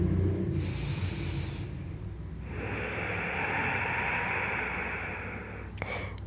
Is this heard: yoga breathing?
yes